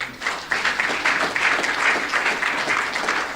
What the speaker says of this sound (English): Can we give his team a round of applause also?